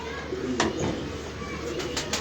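A pigeon gives soft low coos close by, with a few sharp clicks and rustles around it and faint background noise.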